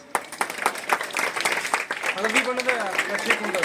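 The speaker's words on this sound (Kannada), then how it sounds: "ಚಪ್ಪಾಳೆ." An audience of students claps at a school National Science Day event, a dense patter of applause running the whole moment, with voices talking over the clapping.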